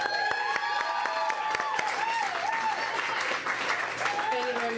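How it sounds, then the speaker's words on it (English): An audience applauds for a singer at a live performance, steady clapping throughout with a few cheers, while a voice speaks over the top. "And I haven't even played yet, you're applauding."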